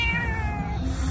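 A cat gives one drawn-out meow, close and clear, with a steady tonal cry that slowly falls in pitch and no talking over it.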